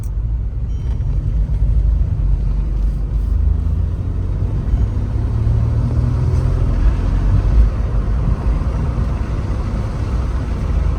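A Mercedes C300, back on the road after a battery change, rolls along with a loud, steady low engine and road rumble heard from inside the cabin, with no voices.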